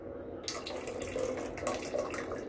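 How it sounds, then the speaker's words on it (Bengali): Vinegar water pours into a pot of boiled milk for malai laddu, a brief splashing trickle of liquid heard close. "আমি এখন আবার বাকি ভিনেগারের পানিটা দিয়ে দিচ্ছি।"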